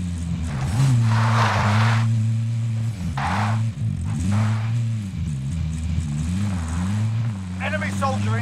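A vehicle engine drones steadily while driving in the video game Call of Duty: Modern Warfare, a loud constant hum that wavers in pitch, with bursts of noise and voices talking over it.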